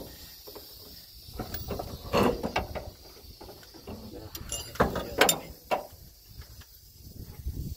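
Wrench clicking and ratcheting on the shift shaft seal of an M35 transfer case: irregular metallic clicks and scraping bursts, close by, with quiet ambient noise between them and no clear talk.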